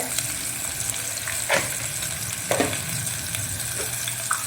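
Bay leaf and a little whole cumin sizzle in hot oil, a steady crackling hiss with a few sharper pops as spices drop in, close and alone without speech.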